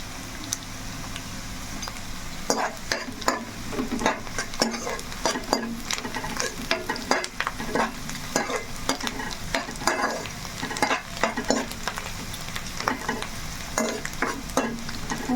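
Chicken frying in a pan with dry coconut, a steady sizzle with repeated scraping stirs of a spoon against the pan, close and regular throughout.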